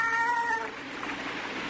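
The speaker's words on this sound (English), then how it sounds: "Sounds like a cat." A cat meows in a drawn-out, wavering cry, clear but a little distant as if somewhere along a balcony at night, then fades into quiet open-air hiss.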